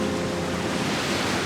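Waves surge and wash along the Sicilian coast in January, a steady loud roar of surf with wind rumble, continuous and close, with no voices.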